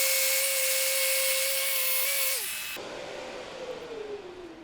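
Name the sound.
Rotex sander stripping paint from a wooden shutter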